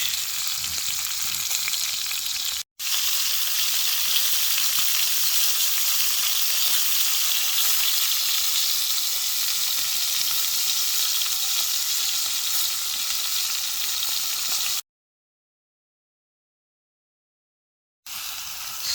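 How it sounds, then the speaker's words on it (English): Seasoned fillet steaks sizzle and fry loudly over an outdoor campfire, a dense continuous hiss with one brief dropout and a short silent gap near the end. "Steaks are going."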